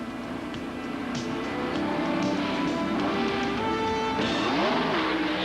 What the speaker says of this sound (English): He buries the gas pedal, shifts second, third, fourth.